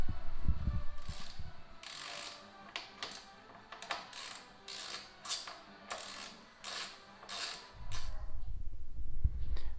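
A ratchet wrench clicks repeatedly while loosening 8mm tailpiece bolts on a Royal Enfield Interceptor 650 motorcycle, giving bursts of rapid close ratcheting between brief pauses, with low rumbling at the start and end.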